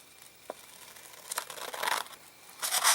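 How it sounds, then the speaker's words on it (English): Scissors snip along a strip of material in a close, quiet setting, a few crisp cutting and crinkling bursts building toward the end with no talk. "And then I'm going to cut along that with my scissors."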